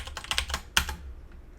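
Quick bursts of keystrokes on a computer keyboard, close and crisp, a rapid run of clicks followed by one firmer tap and then quiet.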